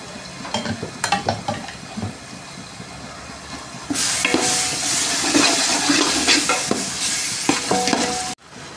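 Ginger garlic paste hits a hot pan of onions, bursting into a loud, steady sizzle after several scraping stirs, with more stirring clatter over the frying before it cuts off abruptly.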